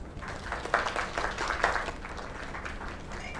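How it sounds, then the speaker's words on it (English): Applause for Kay's place in the video game Lake, a light, steady patter of many hands clapping at moderate distance for a few seconds, fairly soft and without talk. "Another round of applause."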